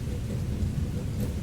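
A rain and thunder ambience holds a steady rain hiss under a deep rolling rumble of thunder, fairly loud and continuous, with no voices.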